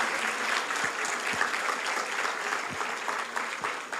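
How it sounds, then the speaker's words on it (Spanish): A church congregation applauds, their dense, even clapping carrying on steadily throughout at moderate loudness. "dele un fuerte aplauso al Todopoderoso"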